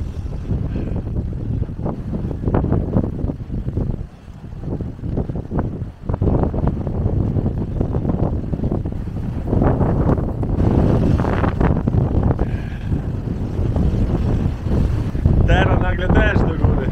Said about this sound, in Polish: wiatr piska straszny. Zresztą pewnie będziecie to słyszeć.